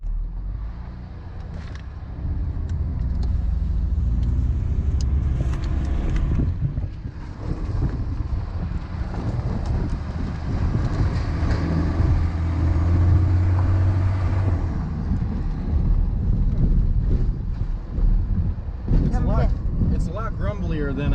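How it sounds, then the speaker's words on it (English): A Chevy truck swapped to a Cummins 5.9L diesel runs with a loud, grumbly engine roar and turbo whoosh rising and falling, buffeted by wind, while people talk over it. "Turbo sounds pretty dang good though"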